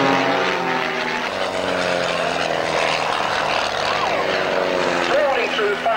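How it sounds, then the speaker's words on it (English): Propeller aerobatic aircraft performing at the 1991 Leicester Airshow, a steady loud engine drone with shifting pitch sweeps as planes pass, continuous throughout with a commentator's voice faintly underneath. "Rolling through 540 degrees while Nigel Lamb flies up through the centre, before disappearing and leaving the centre stage to find the knife edge pass"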